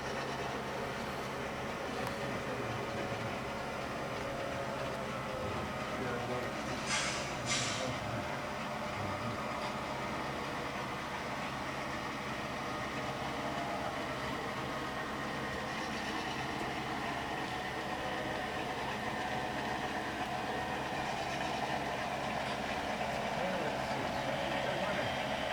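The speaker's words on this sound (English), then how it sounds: "That doesn't stop us from running trains." Model trains running on a model railroad layout give a faint, steady mechanical rumble and hum, with a couple of brief high squeals partway through, in a quiet room.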